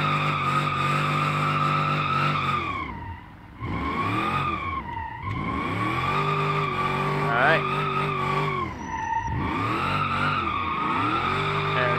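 A car in the BeamNG driving game spins out, producing loud, sustained tire squeals that rise and fall over a revving engine, with brief dips where the car slows between slides.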